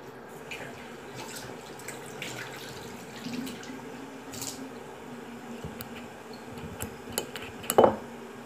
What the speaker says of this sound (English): I need to wash my hair.